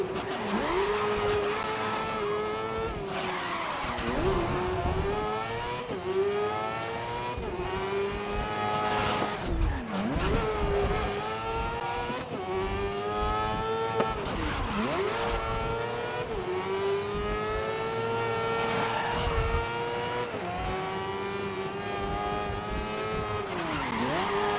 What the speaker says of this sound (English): You can now hear just the sound of the formula.